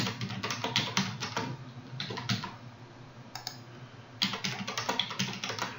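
Rapid clicking keystrokes on a computer keyboard as a password is typed, in bursts with a short pause in the middle, close and fairly quiet with no talking.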